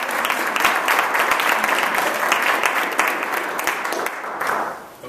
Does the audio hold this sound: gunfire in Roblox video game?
no